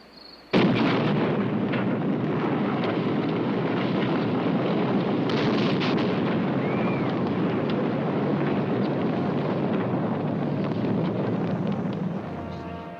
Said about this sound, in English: scientists anxiously await the detonation of the world's first atomic weapon